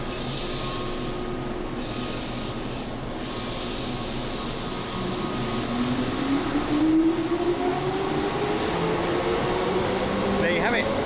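A train in Japan pulls away from Kyoto station after the run from Osaka, its motor whine rising steadily in pitch over a constant rumble and ventilation hum, with someone talking nearby.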